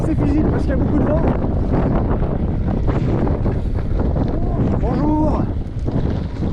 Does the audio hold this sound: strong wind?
yes